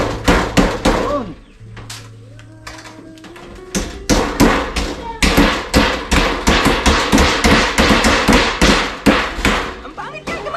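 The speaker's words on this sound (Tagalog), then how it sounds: "Akin na ano, yung martilyo." A hammer strikes repeatedly during a repair, sharp close knocks coming in quick, steady bursts with brief pauses, people talking in the background.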